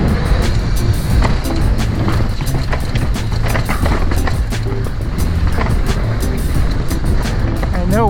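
A mountain bike rolls down a trail run without the bottom-bracket weight, giving continuous loud rattling chatter, tyre roar and wind buffeting, with sharp knocks from bumps scattered throughout.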